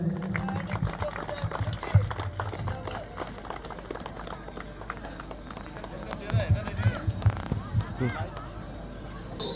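An audience at a Best Durga Puja Pandal award announcement claps in a dense, sustained patter of applause that swells louder toward the end, with a voice speaking over it.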